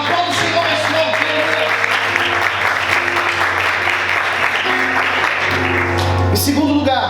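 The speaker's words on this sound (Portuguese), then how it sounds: "Aplauda o Senhor mais forte." A church congregation claps loudly and continuously in praise during a worship service, a dense roomful of hands with voices and crowd noise mixed underneath.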